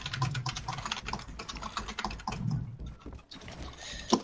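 Rapid, steady computer keyboard typing clatters throughout, close and fairly loud, with a brief pause near the end, during a Fortnite gaming session.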